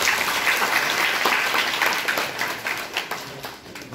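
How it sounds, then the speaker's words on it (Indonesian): Audience applause at a school orientation event, a dense patter of many hands clapping that gradually fades toward the end. "Tepuk tangan buat Tiang."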